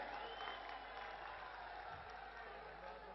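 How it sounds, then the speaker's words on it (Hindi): Crowd applause at an outdoor political farmers' rally in Jaipur, a steady wash of clapping from a large audience that continues for the whole stretch without a break. "दोनों हाथ ऊपर करके तालियां बजाकर देश के नेता का स्वागत करें"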